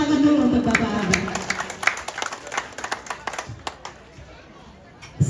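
An audience applauds for Bapak Abraham at a church welcoming gathering, with a burst of scattered claps and crowd chatter that thins out toward the end, while voices talk over it.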